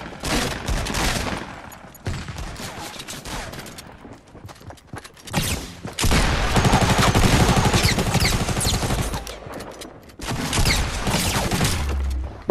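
Gunfire in Fortnite Battle Royale, a rapid automatic burst followed by heavier sustained fire with a brief lull between, loud and close throughout.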